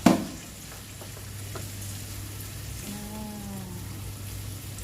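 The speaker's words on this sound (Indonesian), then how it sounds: "kita tumis kecambahnya sampai dia matang" Bean sprouts with a little water sautéing in a home-kitchen pan, giving a steady soft hiss and crackle after a sharp clatter at the start as they drop in, with a brief squeaky tone midway.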